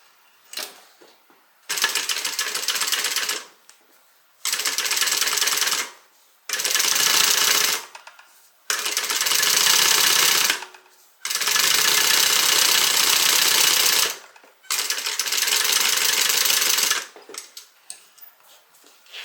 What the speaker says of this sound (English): we're going to stitch that seam allowance down